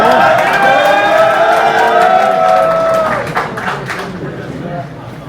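Crowd at a press club general body meeting cheers and claps, loud and close, with voices raised over it before the noise thins out.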